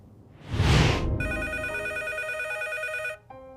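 A telephone rings loudly and close, a continuous trilling electronic ring lasting about two seconds after a brief rustle or handset noise, then a short final tone as it stops.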